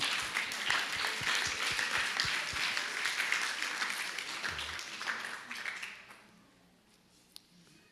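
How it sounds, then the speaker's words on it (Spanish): A church congregation applauds with dense, lively clapping that holds steady for several seconds, then tapers off and fades to near silence. "Démosle un aplauso"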